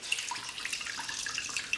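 Water runs from a tap onto a paper towel being soaked for germinating garden tomato seeds, a soft steady trickle and splash heard alone at close range.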